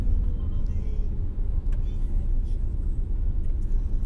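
Low rumbling traffic in a heavy jam stretching a full kilometre, with idling and creeping engines, a brief air-brake hiss and faint distant voices over a steady low drone.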